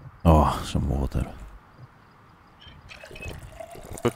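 Water pours and trickles in the Project Zomboid video game, a short liquid burst that fades, while a person talks over parts of it.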